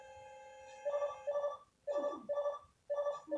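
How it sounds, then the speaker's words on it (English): A video game telephone in Mega Man 9 rings in short electronic chiptune bursts, four repeated trilling rings with brief pauses between them, clear and isolated with no talking. "We got another call. The phone is ringing."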